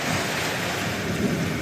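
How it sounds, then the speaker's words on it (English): Rain falls steadily at a farm in Union County, a dense, even hiss with no breaks, partly blurred by wind noise on the microphone. "It's currently raining"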